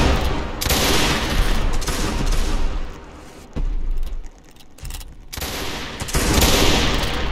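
Rapid gunfire from a castle siege video game battle, dense bursts of overlapping shots loud and close, dropping to a quieter lull in the middle before the volley resumes at full intensity.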